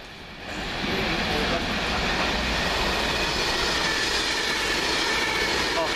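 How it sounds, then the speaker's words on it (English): A Class 390 express train runs fast through Crewe station, its roar building within the first second and then holding as a loud, steady rush of wheels and air, with an announcement voice partly under it. "go to London Euston Express, 390-123. Just now departing Crewe Station"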